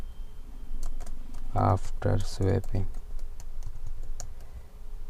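Python code is typed on a computer keyboard as rapid light clicks under steady nearby talk, with a voice over the keys.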